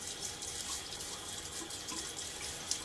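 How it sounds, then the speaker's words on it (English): Tap water running steadily into a sink while preparing to shave with a Gillette Sheraton razor and Nacet blade, a continuous bright splashing hiss with small drips and one brief louder splash near the end. "Just a little bit of water. Get those whiskers a little wet."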